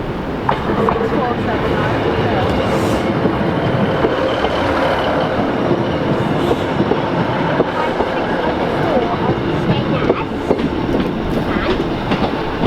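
A Skegness train rumbles past close by, with a steady roar and rhythmic clacking of wheels over rail joints for the whole stretch, voices faintly underneath.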